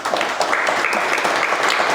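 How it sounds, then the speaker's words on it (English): Audience applause for a speaker at a small-business startup meetup, steady dense clapping from a crowd sustained for the full two seconds with no pauses. "So round of applause for Lexi."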